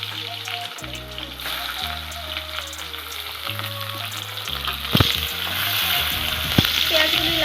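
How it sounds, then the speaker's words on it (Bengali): Onions added to hot oil fry steadily in a pan while a chilapa fish oil-jhal curry is made, a continuous sizzle under background music with a couple of sharper clatters near the end. "তেলটি আরেকটু গরম করে এতে ছেড়ে দিব কিছু পেঁয়াজ।"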